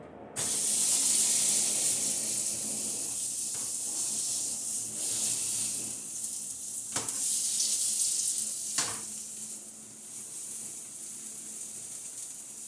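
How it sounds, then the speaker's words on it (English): Steak edges searing in an oiled pan to render the fat, giving a steady, close broadband sizzle with a few brief crackling flare-ups. "So I start by searing the edges, because that's where the fat is."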